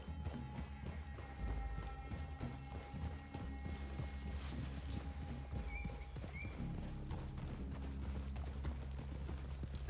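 Horses in the video game Red Dead Redemption 2 clopping along at a walk, steady hoofbeats close by with a snort or brief whinny and faint creaking tack, set against a low outdoor ambience.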